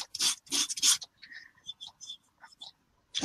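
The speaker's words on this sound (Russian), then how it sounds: "Вот, аккуратненько шлифуем." A painted decoupage vase being sanded by hand, giving soft, rasping rubs in short bursts, louder strokes at first and then lighter intermittent scraping, close up with no talk.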